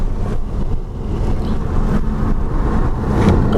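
A 2014 Nissan Juke Nismo on a race track during a warm-up lap, with a loud, steady engine drone and road rumble heard from inside the cabin, no talk.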